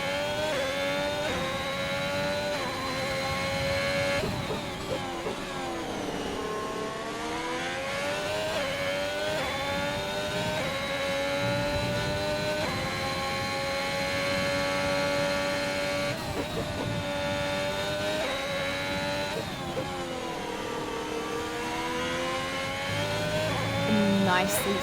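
Ferrari Formula 1 car engine heard onboard at the Hungary round of a racing video game, a continuous high whine rising and falling through gear changes and corners for the full stretch, with talk over it at times.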